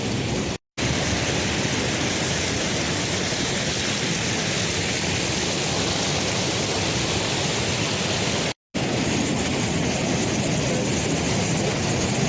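Cascades of the Hérisson waterfalls roar as a steady, dense rush of falling water, loud and close, continuous apart from two brief cuts.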